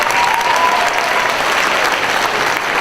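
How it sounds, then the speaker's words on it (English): An audience at a fifth-grade graduation applauds the school secretaries, a full, continuous wash of many hands clapping, loud and even from start to finish with no voices standing out. "Let's give them a round of applause"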